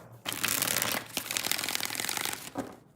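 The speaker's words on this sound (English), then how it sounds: "2 more shuffles here" Tarot cards being shuffled by hand, a close, loud burst of riffling and flapping lasting a couple of seconds, then a brief second flutter as the deck settles.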